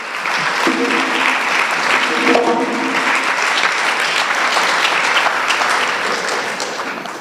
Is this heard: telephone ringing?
no